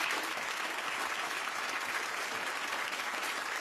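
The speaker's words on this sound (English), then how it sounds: "Give them a round of applause." Studio audience applause on a daytime talk show about lie detector results, steady dense clapping throughout, loud and close with no talk over it.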